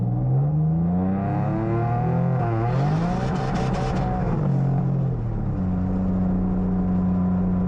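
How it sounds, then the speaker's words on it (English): A 600+ whp single-turbo Infiniti G37 revs and pulls hard, its engine note sweeping up and down through several gear changes in a loud, close, steady roar with no talking. "some out of the car pulls so you have an idea as how the car sounds"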